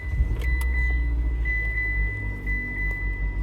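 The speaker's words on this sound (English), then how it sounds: "So the vehicle is running." A Mitsubishi vehicle idles after repair work, a steady low engine hum with a faint high whine and a few light clicks nearby, heard alone without talk.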